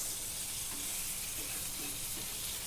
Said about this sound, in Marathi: 1-2 मिनिट आपण हे फ्राय करून घेणार आहोत